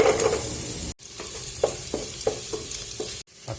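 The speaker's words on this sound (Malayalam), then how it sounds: "ഇതിലേക്ക് ആദ്യം നമുക്ക് വെളുത്തുള്ളി ഇഞ്ചി ഇട്ട് കൊടുത്ത് നന്നായിട്ടൊന്ന് വഴറ്റിയെടുക്കാം" Garlic, ginger and shallots sautéing in oil in a pan for a Kerala-style chickpea curry, a close steady sizzle broken by repeated soft scrapes of a stirring spoon.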